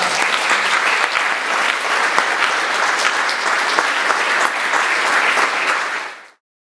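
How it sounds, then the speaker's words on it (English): An audience at a senior class orientation applauding school support staff: loud, dense, sustained clapping from a large crowd, even throughout before stopping suddenly. "would you please welcome our support staff with a nice round of applause"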